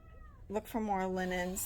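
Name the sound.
cat meowing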